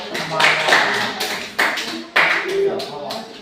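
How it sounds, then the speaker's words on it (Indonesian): A class applauds a student group: a burst of clapping from several people, fairly close, rising and falling in waves, with voices mixed in. "Kita beri aplaus dulu untuk kelompok"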